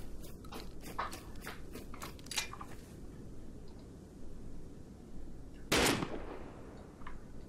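Gunfire in the survival video game Rust: a quick burst of several sharp shots at the start, then a single louder close shot a few seconds later, over steady ambient game noise.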